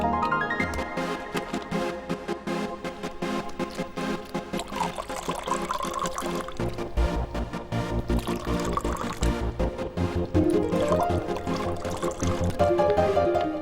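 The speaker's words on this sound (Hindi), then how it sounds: "पानी तो डालो।" Water poured into glasses at a hosted gathering, a continuous trickling fill running under a backdrop of film music, with no talk over it.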